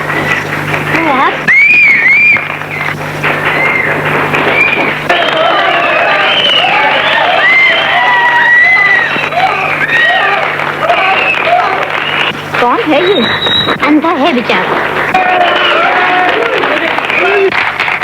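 Loud applause and cheering from an audience at a speech in a classic Pakistani film, a dense continuous roar of clapping and crowd noise that runs the whole time with voices calling out over it.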